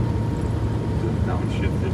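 Wanderlodge motorhome engine climbing a hill under boost, a dense low rumble and drivetrain roar heard from inside the cab, continuous and fairly loud with no break.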